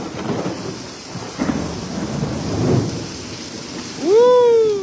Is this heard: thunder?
yes